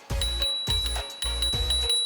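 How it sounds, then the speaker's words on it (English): The handlebar bell on a Leqismart A8 electric scooter is flicked repeatedly, giving a bright close ringing chime over a low mechanical thrum, roughly four strikes in a steady rhythm. "On the left side, there's a bell."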